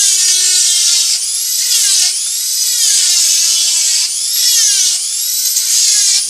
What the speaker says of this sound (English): I'm gonna carve it in super quick with this burr